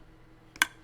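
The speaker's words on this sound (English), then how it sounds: "the clicking you can hear is the seeds being dispensed" A Minecraft dispenser gives a single short click as it dispenses seeds, sharp and close against near silence.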